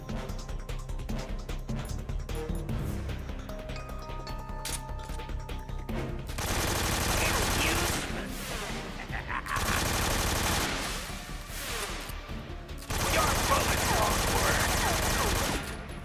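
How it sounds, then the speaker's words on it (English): Automatic AK rifle fire in Metal Gear Solid 3, sustained loud bursts between about 6.5 and 16 seconds with short gaps. Game music and other sounds play over the opening stretch. "Let's use AK instead of shotgun"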